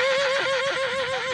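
A Barb horse neighs in a long, loud, quavering whinny close by, the call wavering up and down throughout with nothing else heard over it.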